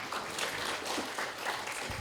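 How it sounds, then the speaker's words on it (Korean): A church seminar audience claps for people called up front, a steady broad wash of applause filling the short moment without a break. "이분들에서 박수 한번 해주세요"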